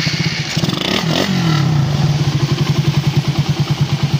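Suzuki Raider 150 motorcycle engine with about 81,000 km running close up, a steady rapid idle pulse with a brief rev near the start, checked for valve clatter after a valve replacement.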